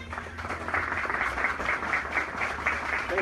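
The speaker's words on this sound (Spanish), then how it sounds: "¡Esos aplausos que se oigan!" A crowd applauds a dance group's sponsors at a December 25 Danza de los Negritos performance. Diffuse, continuous clapping holds at moderate level for a few seconds, blending into a soft wash of crowd noise.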